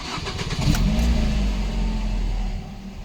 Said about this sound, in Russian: Машина заработала.